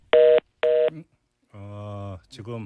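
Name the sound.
telephone line beeping after call disconnects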